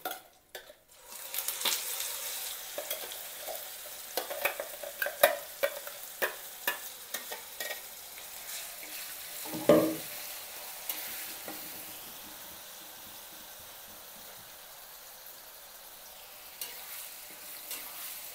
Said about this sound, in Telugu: బాగా లో ఫ్లేమ్ మీదే ఫ్రై చేసుకోవాలి. ఉల్లిపాయలో ఉండే వాసన, పచ్చి వాసన మొత్తం పోవాలి.